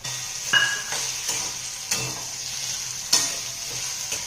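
Finely chopped potato frying in hot oil in a pan, a steady soft sizzle with occasional stirring scrapes and light clinks, and no voices.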